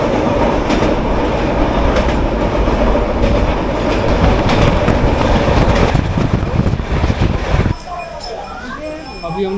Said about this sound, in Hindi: लेकिन हम लोग जा रहे हैं ट्रेन से,